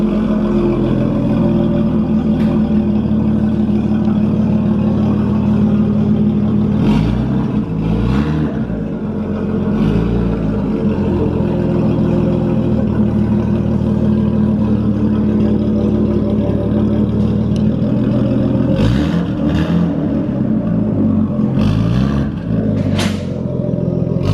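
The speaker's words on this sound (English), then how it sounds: "Turbo spool." A Nissan R32 Skyline with a freshly welded straight-piped exhaust idles loudly and close, with a burbling, rumbling drone and a few short revs that rise and fall, and turbo spool on acceleration.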